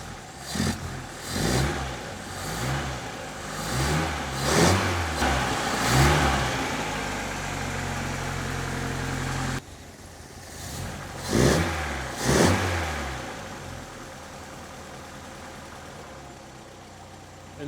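A 1964 Triumph TR4 engine running after an electronic ignition conversion, off the choke, revving up in repeated bursts between steady idle passages, then blipped a couple more times before settling to a smooth idle.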